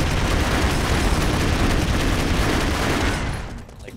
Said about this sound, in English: If I want to, I can shoot through the wall.